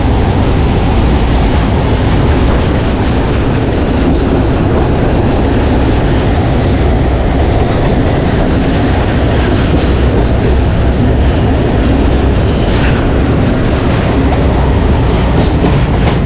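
The Haldibari Intercity Express, a train from Kolkata to NJP, rumbles steadily along the tracks, a loud, constant roar with faint rhythmic clatter of wheels throughout.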